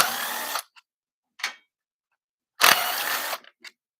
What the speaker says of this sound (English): That's why I'm using a power tool, trying to save the heads on these bolts.